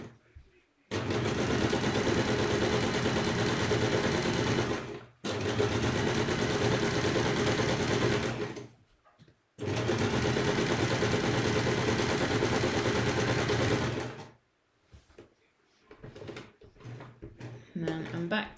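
A sewing machine stitches a simple curved fabric applique, running in three long steady bursts of fast whirring with brief pauses between, then stopping for a few small clicks and handling sounds.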